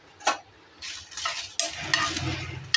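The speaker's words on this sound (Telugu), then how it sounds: "ఇవి కొద్దిగా ఫ్రై చేసుకోవాలి." About ten dried red chillies frying in a pan, with scattered clinks and scrapes of a spatula against the metal over light sizzling, close up and irregular, no voices.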